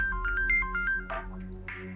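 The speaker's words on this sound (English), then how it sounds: "It all began with a phone call." A telephone ringtone chirps in a quick electronic melody of short repeated beeps over a steady low hum, followed by a brief rustle as the call is picked up.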